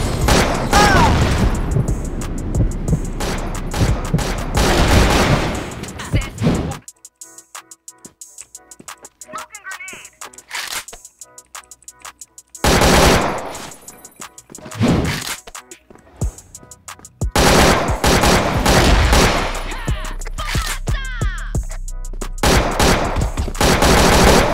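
Bursts of automatic fire from an AK103 rifle in a shooting video game come as loud rapid volleys, broken by short quiet gaps and single thuds across about 25 seconds.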